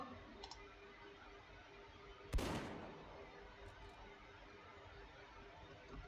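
A single sharp gunshot at about two and a half seconds cracks out in the turn-based game Dreadlands, decaying over a short tail against a quiet, steady backdrop with a faint click earlier.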